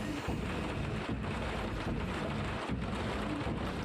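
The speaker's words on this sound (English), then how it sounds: "And it's still raining." Steady rain in the Project Cars 2 racing game, heard in a race car waiting on the grid at the back of a Ginetta Junior field: a dense, continuous hiss of falling rain and spray, fairly loud and unbroken, with no talking.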